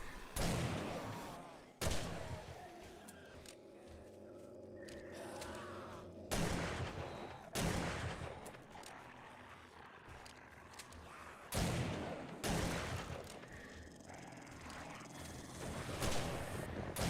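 Shotgun blasts from the video game 7 Days to Die boom out every few seconds, each followed by a rumbling tail, fairly faint behind a steady background wash.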